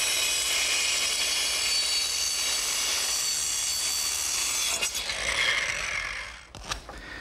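Power saw cutting a pressure-treated 2x6 floor joist for a playhouse, a steady loud buzzing whine that runs for several seconds, then winds down with a brief clatter at the end of the cut.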